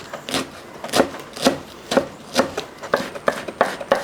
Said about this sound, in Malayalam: ആ ഇലയും കൂടെ അങ്ങോട്ട് അരിഞ്ഞെടുക്കുക